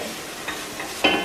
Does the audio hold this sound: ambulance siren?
no